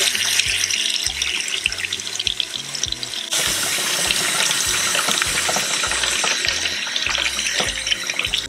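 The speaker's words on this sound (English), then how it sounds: "You wanna make sure that you rinse these eggs really well when you get them out." Water-glassed eggs preserved in lime solution are rinsed under a running kitchen tap, a steady close gush of water splashing into a sink with small knocks as the eggs are handled.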